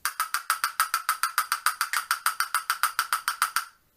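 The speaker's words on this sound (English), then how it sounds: "how you play quietly with paddle castanets is you just move up your position where you're holding and you put your finger over top of the paddle" Paddle castanets played quietly on the knee, a rapid, even series of about twenty crisp clicks lasting several seconds, then stopping, with no voices.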